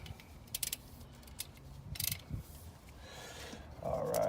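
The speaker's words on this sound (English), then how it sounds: "So now I can fit my socket. I'm gonna get ready to remove it." Ratchet and socket loosening the PCV valve on a 2008–2012 Nissan Rogue engine, with quick clicking ratchet strokes and metallic knocks close up, no talking.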